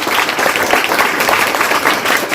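A school farewell audience bursts into loud, sustained applause to congratulate a student and her mother who donated, many hands clapping densely and evenly throughout.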